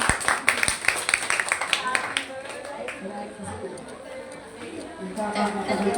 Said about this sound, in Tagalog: Palakpak po sa aming pinakamagandang pastora!